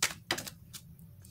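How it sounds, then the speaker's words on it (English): Quick crisp flicks and riffles from shuffling a tiny deck of tarot cards, a few short close bursts in rapid succession. "let's continue to shuffle in the smallest deck in the world"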